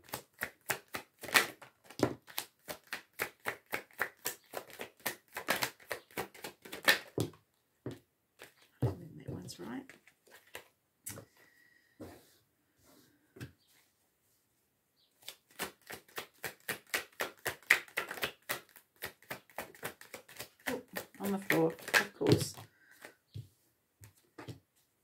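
A deck of tarot cards is shuffled in long runs of rapid riffling clicks, pausing briefly midway before a second extended burst of quick card flicks.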